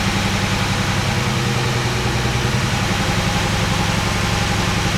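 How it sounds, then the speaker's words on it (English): A 1969 Mercedes 280SE engine idles close by with a loud, steady, even rumble that carries on without a break, no voices over it. "I like that idle speed way more."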